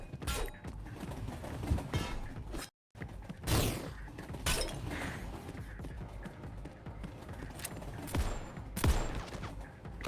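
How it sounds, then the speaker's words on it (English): Punchy shotgun blasts used as a sound effect in an electronic music track, several sharp bursts cutting through a dense, loud mix with a brief dropout midway. "the shotgun is satisfying. It needs to be a little punchy in the sound, though"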